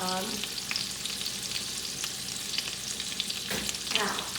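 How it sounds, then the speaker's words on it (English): Salmon frying in a pan gives a loud, continuous close sizzle with scraping stir sounds, and a brief sharper clatter near the end. "Cook that salmon up."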